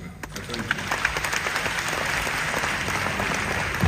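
A large delegates' conference crowd of Ghanaian teachers applauds President Mahama in a hall, the clapping swelling from a few early claps into a loud, steady dense roar that fills the space.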